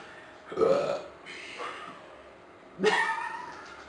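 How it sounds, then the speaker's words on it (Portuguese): A person gives two soft, throaty burps a couple of seconds apart during a casual indoor chat, both fairly quiet against faint room noise. "Você arrotou, você tem que fazer isso."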